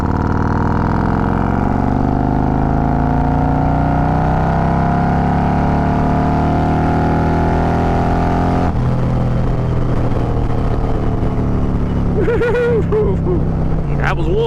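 A cammed Harley-Davidson Road Glide motorcycle accelerating in fourth gear: a loud, close engine roar climbs steadily in pitch for about eight seconds, then backs off to a lower rumble with a brief voice near the end.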